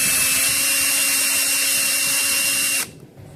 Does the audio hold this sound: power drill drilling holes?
yes